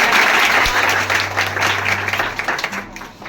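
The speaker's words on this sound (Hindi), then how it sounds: "एक बार फिर से ताली बजाएं।" An audience at a talk for students on practising humanity breaks into sustained, dense clapping that fills about three seconds at steady strength, with a low hum underneath.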